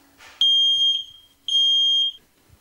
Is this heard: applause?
no